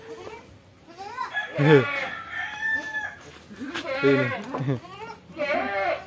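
Etawa goats bleat in a pen, several wavering calls overlapping loudly close by, some higher and some lower, while a person says a brief word.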